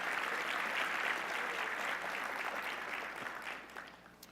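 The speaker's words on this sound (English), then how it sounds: "let's give them a round of applause" An audience at a port's annual address gives a round of applause, a brief and moderately distant wash of clapping that holds steady and then tapers off over a few seconds.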